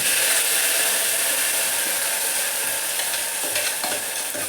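Blended palak (spinach) paste frying in a pan with cumin for palak rice, a steady loud sizzle with stirring scrapes throughout, no talk.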